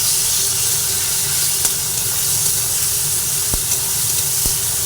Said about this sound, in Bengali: ভেজে দিয়ে ভালোভাবে আবার একটু ভেজে নিই